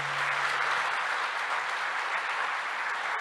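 Church congregation applauding the Lord during a Portuguese-language sermon, a steady dense wash of clapping that fills the whole moment without letup.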